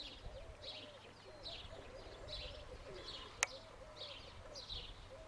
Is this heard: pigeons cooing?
yes